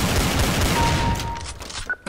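Rapid bursts of gunfire from the video game Counter-Strike Source, loud and dense, fading into a short tail with a faint ringing tone.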